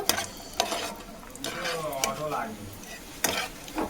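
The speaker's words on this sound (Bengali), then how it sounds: "প্যানের মধ্যে দিয়ে দেবো অল্প কিছুটা মতো ঘি এর মধ্যে দিয়ে দেবো কিছুটা কাজু আর কিশমিশ এই ঘিয়েতে দিয়ে একটু ভালোভাবে ভেজে নেব" Cashews and raisins fry in a little ghee in a pan, heard as a quiet sizzle punctuated by several sharp spoon-against-pan clinks and scrapes during stirring.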